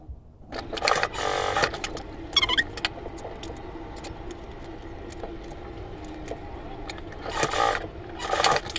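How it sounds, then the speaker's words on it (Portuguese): A domestic sewing machine stitches the side seams of a fabric cube organizer, its motor running in short bursts with a rapid needle clatter, close and clear with no talking. "Vou pegar e passar uma costurinha aqui nas laterais, de um lado e do outro."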